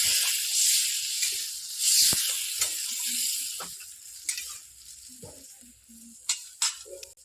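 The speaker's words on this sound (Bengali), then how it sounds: "সবজিগুলো এবার ভালো করে নেড়ে চেড়ে আমি জলটা দিয়ে দেবো পরিমাণ মতো" Water poured into a pan of cauliflower and soybean chunks sets off a steady, close sizzle and hiss, with brief clinks and stirring knocks scattered through it and no talking.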